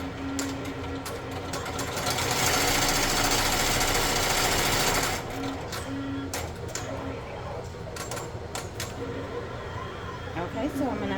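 Embroidery machine stitching an applique outline, a rapid mechanical whirring that runs loud for a few seconds and then turns to softer intermittent clicks and hums, with a person talking over it.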